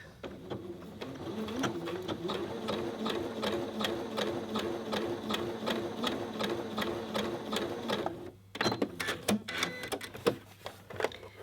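A normal domestic sewing machine runs a zigzag overlock stitch along a garment's raw edge, a fast steady mechanical chatter that stops briefly near the end, then resumes in short uneven bursts.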